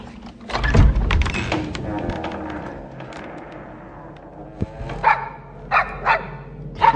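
A dog in a film barks several times, a few loud close barks followed by quieter yips and whines, with a thump partway through.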